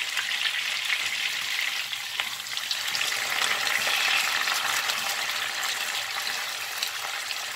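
Chicken pieces laid skin side down in a pan sizzle loudly and steadily, with a constant dense crackle that holds without a break.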